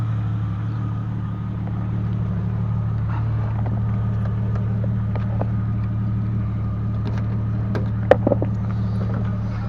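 A Jeep XJ engine idles after a Seafoam carbon-cleaning treatment and a spark plug refit, having been running for about fifteen minutes. A loud, steady, low drone holds throughout, with a few faint clicks near the end.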